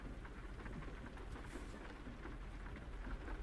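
Rain pouring in American Truck Simulator on a trucking route from Moab, Utah to Cheyenne, Wyoming, a constant hiss of drops on the cab with a deep background rumble, soft and continuous without voices.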